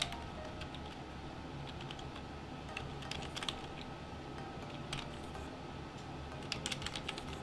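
Fingers tap rapidly on a computer keyboard at close range, a quiet, continuous patter of keystrokes with occasional sharper clicks over a faint background hum.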